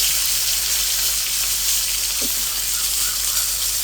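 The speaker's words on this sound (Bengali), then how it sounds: "উল্টে পাল্টে আর একটু ভেজে নেব" Koi fish frying in hot oil makes a loud, constant hiss-like sizzle that holds steady throughout with little variation.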